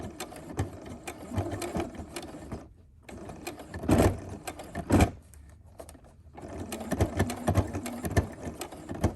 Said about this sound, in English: the flatter you can get it, the less my sewing machine has trouble